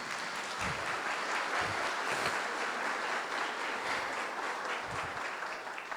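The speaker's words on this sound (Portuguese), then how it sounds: "Vamos aplaudir Jesus pela vida do Fabrício." A church congregation applauds in a steady, even wash of clapping that carries on without pause, heard from a moderate distance and fairly quiet.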